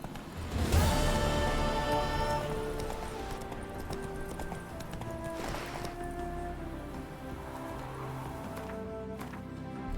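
Roach, the horse from The Witcher 3, gallops in a steady rhythmic clip-clop of hooves, loud and near at first then continuing under a background of game ambience.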